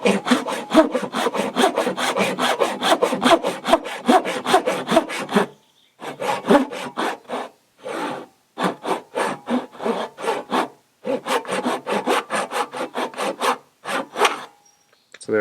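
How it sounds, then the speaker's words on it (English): A handsaw cuts wood for a nibbed scarf joint in a boat repair, with steady, rapid rasping strokes up close, pausing briefly before resuming in shorter bursts. "Now I'll use a handsaw to cut this portion of it"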